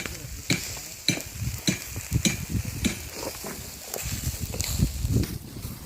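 Chicken sizzles and crackles steadily on a grill at a construction site, with scattered sharp pops and scraping stirs close by, fairly quiet overall.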